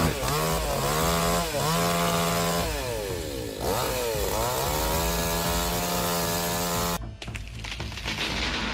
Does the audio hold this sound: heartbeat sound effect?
no